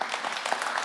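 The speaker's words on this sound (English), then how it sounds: "Just sort of clap, make some noise" Brief burst of audience clapping and cheering in a conference panel room, steady and dense for under a second.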